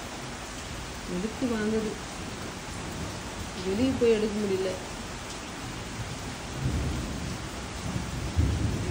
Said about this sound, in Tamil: எங்க ஊர்ல எல்லாம் நல்ல மழை